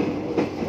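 A commuter train rumbles steadily through Duri station in Jakarta, a continuous low rolling roar with a faint swell in the middle, heard from fairly close with no talk.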